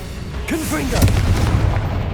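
Confringo fire spell blast in the video game Hogwarts Legacy, a brief whoosh followed by a low booming impact and rumbling debris, with a short grunt-like voice near the start.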